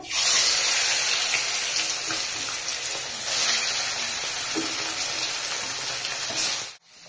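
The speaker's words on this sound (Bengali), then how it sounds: "এখন আমি মাছটা কিন্তু ভাজছি" Fish frying in hot oil, a loud, continuous hiss that holds steady and then cuts off abruptly near the end, close by with no speech.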